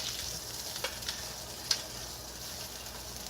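Onions sauteing in a pan for a keto beef steak dinner, giving a steady faint sizzle with a few small pops and crackles throughout.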